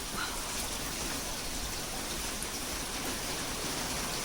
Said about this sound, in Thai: นอนฟังเสียงฝนทั้งวันเลยนะคะ